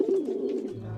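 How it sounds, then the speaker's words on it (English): A pigeon coos in a short, close, steady burble with a low warbling tone, from the One Piece anime, heard alone without talk. "This pigeon needs to die now."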